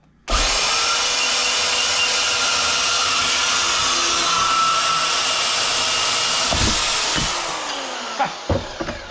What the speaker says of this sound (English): And honestly, it cuts the pipe really fast.